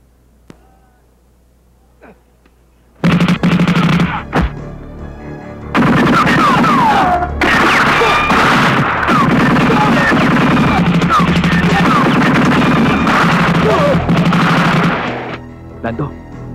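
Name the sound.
gunfire in a movie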